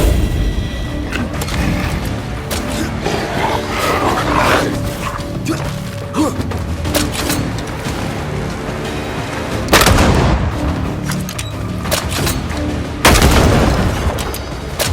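Gunfire in Banishers: Ghosts of New Eden, loud booming shots over a constant bed of combat noise and music, with two heavy blasts standing out late.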